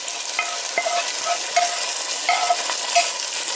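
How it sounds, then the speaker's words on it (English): An onion mixture is stirred into a garbanzo bean and rice soup in a pot, a steady sizzling hiss with light scraping and soft knocks from the spoon, close and continuous, no speech. "and then mix it up"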